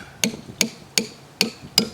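Five sharp hammer blows on a hardened ring shank nail driven into cedar, evenly spaced about every third of a second, close and crisp with no talk.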